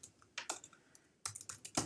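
Keys clatter on a computer keyboard in short, uneven bursts of crisp clicks, pausing briefly before a quicker run of keystrokes.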